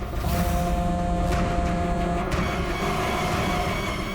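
Road traffic: a dense, steady rumble of car and truck engines with passing vehicles and a few brief louder knocks, fairly loud and continuous with no talk.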